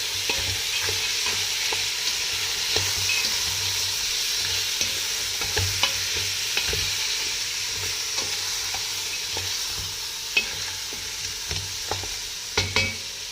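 Two cups of soaked chickpeas, salted, turned over in a hot pot, a steady sizzle punctuated by repeated irregular scrapes and knocks of a spoon against the pot, close and without speech.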